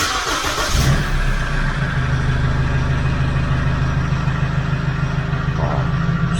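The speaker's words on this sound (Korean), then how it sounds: "시동을 걸어보면" A car engine cranks briefly and catches, then settles into a steady, close, low idle rumble that runs unbroken to the end.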